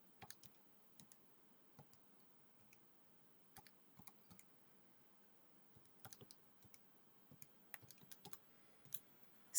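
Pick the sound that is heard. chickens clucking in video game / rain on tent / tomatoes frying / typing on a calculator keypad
typing on a calculator keypad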